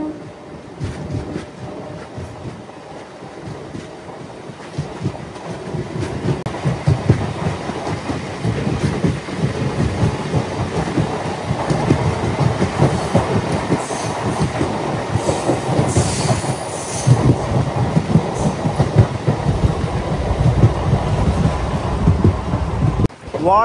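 The Circar Express passenger train runs past in the Godavari districts, a steady loud rumble of rolling wagons with rhythmic wheel clatter and occasional metallic squeal, building slightly louder toward the end.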